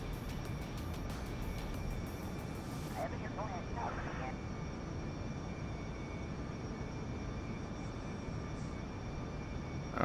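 A jet aircraft in Kerbal Space Program cruising at high speed over an airfield gives a steady broadband engine roar that runs the whole time, with someone talking over it.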